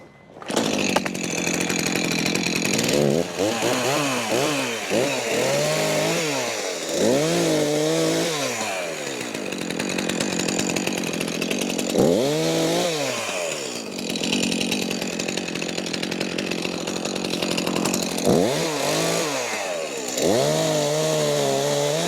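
Chainsaw delimbing and trimming the top of a felled tree, running loud and close the whole time with repeated revving surges as it bites into branches, alone without talk.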